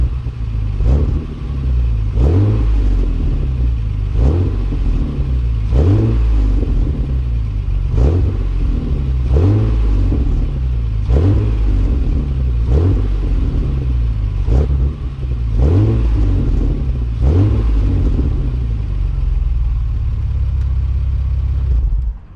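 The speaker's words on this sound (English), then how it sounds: "Here's another quick preview of what it sounds like. I like that you can hear crackles and pops at low RPMs." Custom exhaust on a Lexus GS300 idles with a steady low rumble, broken by rhythmic blips of revving followed by crackles and pops at low RPM, repeating about every two seconds, close up and with no talking.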